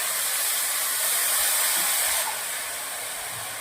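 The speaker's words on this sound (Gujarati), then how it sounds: "પછી ગોળના અંદર થોડું એવું આપણે પાણી રેડવાનું છે." Water poured into hot melting jaggery in a kadai, a loud steady steaming hiss that holds strong, then eases slightly toward the end with no voices.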